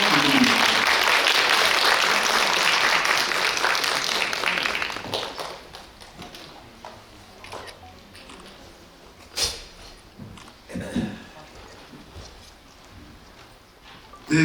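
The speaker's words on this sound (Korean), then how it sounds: "한 박수로 맞이하겠습니다" An audience in a cinema hall claps to welcome guests onto the stage before a film screening talk. The applause is loud at first and fades after about five seconds, leaving scattered claps, shuffling and room noise.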